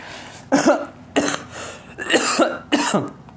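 Four sharp, close coughs in quick succession, each a harsh burst separated by brief pauses, with no talking.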